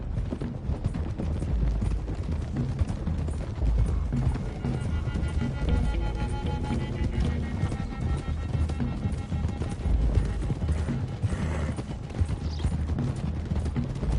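Rapid hoofbeats of several horses galloping steadily in a video game, loud and continuous, with a faint whinny and distant pops mixed into the rumble.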